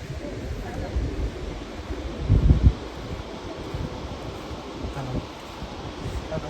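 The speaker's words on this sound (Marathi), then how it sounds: "असला वारा येतं एकदम भारी वाटता" Steady wind off the sea at a Konkan beach rushes across the microphone with low rumbling gusts, briefly louder near the middle, with no clear talk over it.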